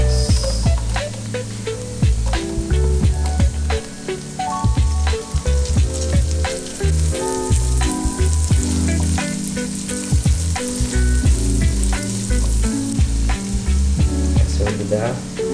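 Ginger and onion fry in a pan, sizzling loudly and continuously up close, with frequent crackling pops and spatters throughout.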